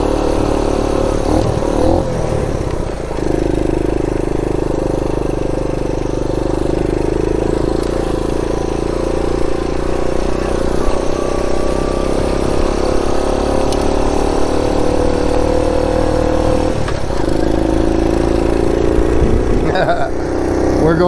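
A motorcycle engine runs steadily through a ride on a bright day, a loud continuous drone with low rumble and wind-like noise, brief shifts in pitch as it revs, with a voice speaking briefly at points.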